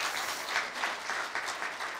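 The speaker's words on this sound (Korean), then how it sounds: "이상길 사장님께 다시 한번 큰 박수" Steady applause from a seated audience fills a university staff retirement ceremony, a dense, even wash of clapping honoring a retiring employee, moderately loud and uninterrupted by voices.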